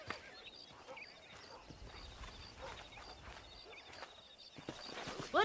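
Horse hooves clip-clop steadily in a Western ranch scene from the video game Red Dead Redemption, a faint whinny rising near the end.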